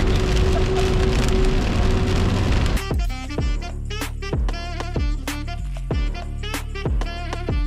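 Rain falls on a morning in Toporčany, Slovakia, first as a dense steady hiss, then giving way to sparse, sharp drips striking a hard surface nearby in an irregular pattern.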